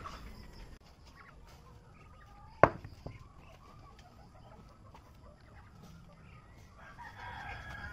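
Chickens cluck softly in the background, with one sharp knock partway through and a distant rooster crow faintly rising near the end.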